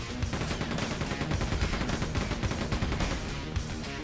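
Gunfire in the video game Quake 2 hits enemies in a dense, continuous rattle of rapid shots and impacts, loud and steady throughout.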